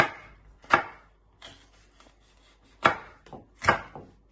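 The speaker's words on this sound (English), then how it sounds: "Then turn around and just chop it, not too big but not too small, little pieces." A knife chops a de-seeded pepper on a chopping board in a few sharp, close knocks at irregular intervals, with quiet gaps between them and no speech.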